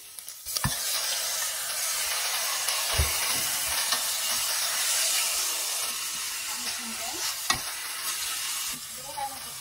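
Beef dropped into a hot pan of onions sets off a loud, steady sizzle and hiss that fills the whole stretch, broken by a few sharp clacks and scrapes of a utensil stirring.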